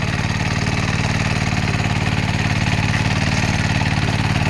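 A diesel-powered weeder engine running steadily: loud, continuous rhythmic chugging with a low throb, close up, no talk.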